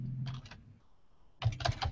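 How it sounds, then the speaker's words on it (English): Computer keyboard keys tapped while entering a web address, two short bursts of quick typing separated by a pause, close and fairly quiet. "I'll type in the URL here,"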